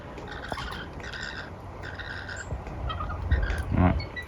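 Rainbow lorikeets squawk and chirp outdoors in the Dandenong Ranges, with scattered calls that grow louder and busier toward the end.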